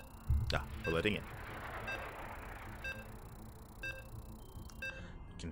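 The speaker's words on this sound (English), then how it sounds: "You can hear the beeps." Faint, evenly spaced electronic beeps sound roughly once a second in a StarCraft tournament broadcast between Terran and Protoss players, under a low game ambience, with a brief louder burst of activity near the start.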